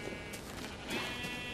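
Sheep bleating in the Minecraft video game, a short faint call near the end of the clip over quiet background noise, with no one talking.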